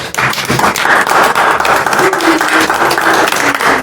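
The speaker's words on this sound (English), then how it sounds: "Round of applause to you guys." Audience applause fills a youth day seminar hall, a dense, loud wash of clapping that holds steady throughout with some low murmur beneath it.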